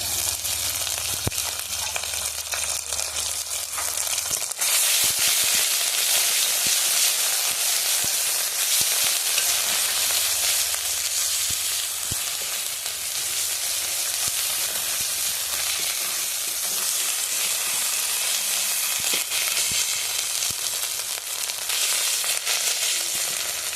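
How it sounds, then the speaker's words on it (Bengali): Ginger paste frying with whole cumin and green chilli in hot oil for a no-onion, no-garlic soybean curry, a steady loud sizzle with occasional stirring that holds throughout. "জিরেটা ভাজা হয়ে গেছে, তো আমি এবার ওর মধ্যে দিয়ে দিচ্ছি আদা বাটা"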